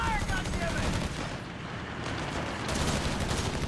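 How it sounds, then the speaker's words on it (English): Dense, continuous bursts of machine gun fire and battle noise fill a Company of Heroes 3 match, loud and sustained with a brief dip in the middle. "This thing is a lot more formidable now with that buffed up machine gun."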